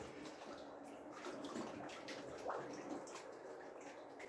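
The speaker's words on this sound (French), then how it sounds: "Ça, c'est de la flotte, c'est une cascade." Water running like a small waterfall somewhere inside underground catacombs, a faint, continuous splashing and trickling with a few brief louder gurgles, distant and echoey, with no one speaking over it.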